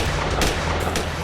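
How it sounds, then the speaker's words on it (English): Gunfire breaking out during a police assault on a village, a dense, loud barrage of shots and booms with sharp bursts standing out over the continuous roar. "Gunfire breaks out."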